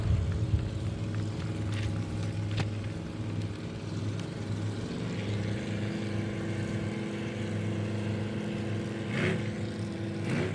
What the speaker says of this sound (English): our first boats make their way off the boat ramp